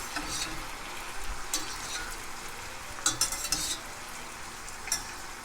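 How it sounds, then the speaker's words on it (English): Linguine is stirred into a sizzling pan of ginger, garlic and chili sauce. A soft fry hiss runs underneath, with a few clinks and scrapes of the utensil against the pan, close and without talk. "We're going to add it into our sauce here."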